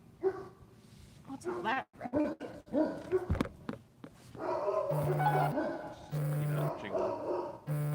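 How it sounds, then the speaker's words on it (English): Several farm dogs bark at night in loud, repeated bursts with yips and growls, close by, while people talk over and between the barks. "couldn't go one full live without having the dogs bark"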